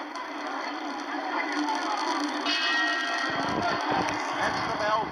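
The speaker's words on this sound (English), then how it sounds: "That's the bell for round 4." A boxing ring bell ends round 3 of a heavyweight bout between Muhammad Ali and Ernie Terrell, clanging faintly beneath commentary and steady crowd noise from the arena.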